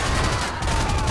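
Rapid continuous gatling gun fire in GTA5, a dense unbroken burst of loud gunfire filling the whole moment.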